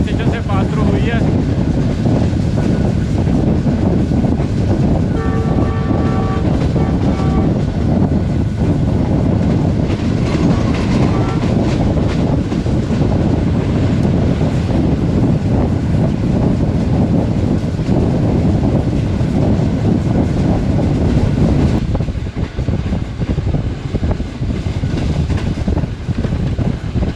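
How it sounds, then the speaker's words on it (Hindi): Passenger train running through Chichawatni railway station in Pakistan, a loud, continuous rumble and rattle of rail cars with wind buffeting, brief tonal whistle-like hums partway through, the roar easing slightly near the end. "दोस्तों ट्रेन हमारी इस वक्त चीचावती रेलवे स्टेशन से पास थ्रू हुई है।"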